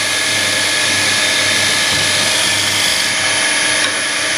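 Lathe tool cutting a wooden bowl as shavings peel away, a loud steady whirring drone with a sustained high whine, continuous and close with no talk.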